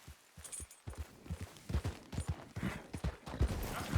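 Horse hooves clip-clop in the Red Dead Redemption 2 video game, a brisk irregular run of hard thuds that starts quietly and grows louder and busier across the few seconds.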